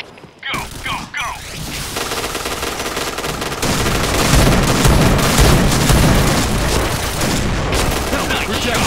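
Automatic AUG A3 rifle fire in a PointBlank multiplayer match: a few sharp shots, then a dense, loud stream of rapid gunfire with booming impacts that builds and keeps going to the end.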